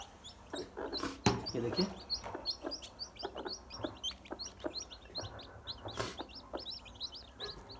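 Newly hatched desi chicks, just out of a 21-day hatch, chirp in a steady stream of short, high peeps close by, with a brief spoken remark over them.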